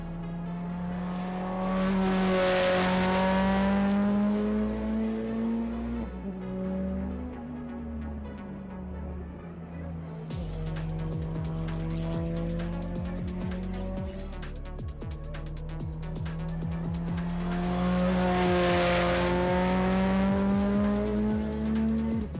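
A Honda-swapped Ferrari race car runs a flying lap on track, its engine loud and continuous, revving up through the gears, dropping off around mid-lap and rising again to a high-pitched wail.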